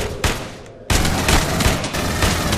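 Battle rifle gunfire from the Aliens: Colonial Marines shooter, fired at mercenaries, comes as loud, close repeated bursts with a short pause before a second rapid string of shots.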